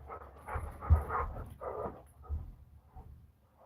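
Dogs pant softly and give faint whimpers indoors, a quiet breathy rhythm in short bursts with no other sounds around it.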